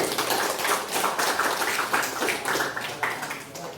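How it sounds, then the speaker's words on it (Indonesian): Students clapping their hands in a classroom, a fairly faint, continuous patter of many claps lasting a few seconds. "Tepuk tangan dulu."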